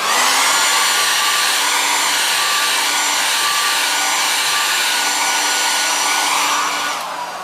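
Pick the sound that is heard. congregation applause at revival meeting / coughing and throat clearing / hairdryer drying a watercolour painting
hairdryer drying a watercolour painting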